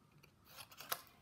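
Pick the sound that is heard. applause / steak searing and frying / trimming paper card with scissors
trimming paper card with scissors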